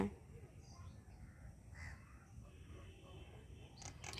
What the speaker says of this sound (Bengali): ওই দেখো কাকগুলো দেখছো ওদের কি খিদে লেগেছিল বলো তো